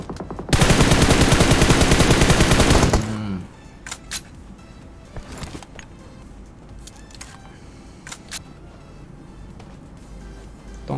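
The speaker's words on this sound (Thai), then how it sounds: "เมื่อกี้เสียงปืน" Gunfire in the video game PUBG Mobile, a loud rapid automatic burst lasting a few seconds, followed by quieter scattered single shots and game sounds.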